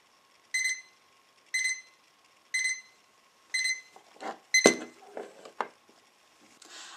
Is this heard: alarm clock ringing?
yes